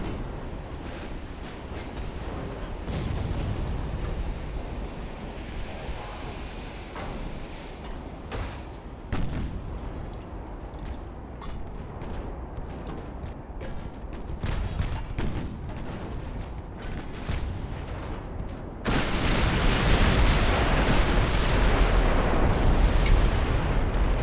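Naval shell fire in Ultimate Admiral Dreadnoughts: a continuous battle roar of distant booming gun salvos and rumbling blasts, with a louder, harsher wash of explosions and spray near the end.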